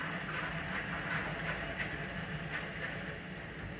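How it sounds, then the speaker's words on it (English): A kitchen garbage disposal runs with hot water pouring through it, giving a steady whirring, hissing rumble with faint rhythmic pulses throughout. "And I crank on the disposal button and just heat it down in."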